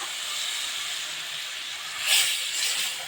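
Ripe papaya drops into hot ghee and sizzles with a loud, steady hiss that swells sharply for a moment toward the end.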